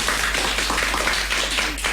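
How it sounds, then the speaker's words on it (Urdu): Applause from a children's radio show audience, a steady, dense clapping that carries on evenly for about two seconds with no one speaking. "تالیاں ہونی چاہیے"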